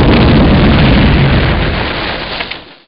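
A cartoon character in the game Stay Tooned blows itself up in a loud, dense explosion that roars at full force, then fades away over about three seconds.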